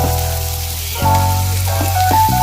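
Spiced tempering for dal sizzles steadily in a hot pan, a continuous frying crackle that grows denser and louder about a second in, with some faint clinks and stirring under it.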